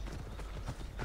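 Horse hooves clip-clopping in Assassin's Creed Odyssey, a steady rapid trot climbing a mountain slope, loud and continuous throughout with no talk over it.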